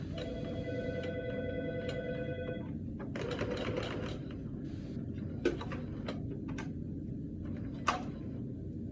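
A sewing machine running a few back stitches along the end of a seam on a drawstring travel bag, first a steady whirring hum, then short bursts of rapid needle clatter with a couple of sharp clicks, close and moderately loud.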